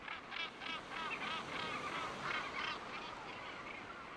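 Seabirds calling from the sheer sea cliffs of Duncansby Head on Scotland's coastline, a dense chorus of harsh honking, overlapping calls repeating steadily at moderate distance.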